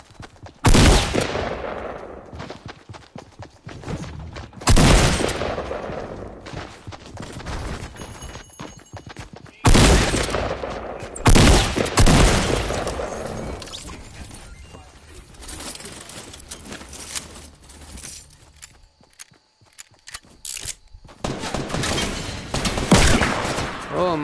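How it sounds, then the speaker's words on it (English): Gunshots in an online shooter game, several sharp loud blasts spaced a few seconds apart with ringing tails, mixed with game effects and some overlapping voice chatter. "God, he's hitting me with these shots."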